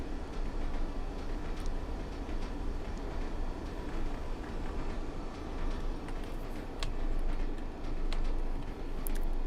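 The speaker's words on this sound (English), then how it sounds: "there's our tanker train. It's just come from Carlos Ribble Rail" A tanker train passes close by. Its dense, continuous rumble and roar carry steady rhythmic clatter from the wheels, heard from on board a Class 101 diesel unit.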